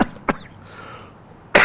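Two short, sharp coughs from one person, a single cough near the start and another at the end, separated by a quiet pause.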